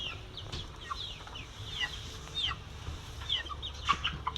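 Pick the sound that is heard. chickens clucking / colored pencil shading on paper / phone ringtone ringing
chickens clucking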